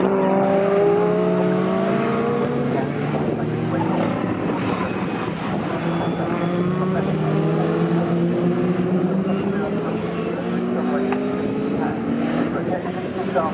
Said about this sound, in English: Now John Dixon on his way past those pesky escorts